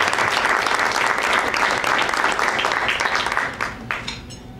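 A ceremony audience applauds an award-winning doctor, dense, loud clapping from a crowd that stays even before thinning into scattered claps at the close.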